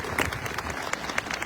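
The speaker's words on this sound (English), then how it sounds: "Let's clap for the sunshine." A brief burst of audience clapping inside Washington National Cathedral, with sharp, scattered hand claps in quick succession over a short moment.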